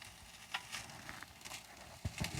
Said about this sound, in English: You got a little sizzle there,